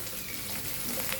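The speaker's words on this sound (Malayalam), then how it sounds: "ഉള്ളി ഇത്രയും ചെറുതായിട്ടൊന്ന് മൂക്കട്ടെ," Small chopped onions fry in hot oil for papaya thoran, giving a steady, dense sizzle at moderate level with no talk over it.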